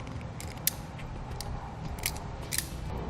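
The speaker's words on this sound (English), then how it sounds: "We'll cut off the excess, strip back the insulation" Wire cutters snipping excess battery charge line wire during a Roadmaster towed-vehicle charge kit install on a 2018 vehicle, a few sharp clicks over a steady background hum.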